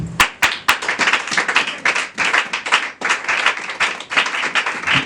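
A church congregation claps and cheers in acclaim of the word of God during a French-language service, with dense rhythmic hand clapping and a few sharp louder claps near the start, steady throughout.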